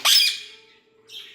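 A cockatiel near its nest lets out a loud, harsh squawk up close, then a fainter second squawk after a short pause, with no voices.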